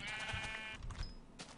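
Sheep bleat in the video game Minecraft, a few wavering bleats over a steady background of game sound.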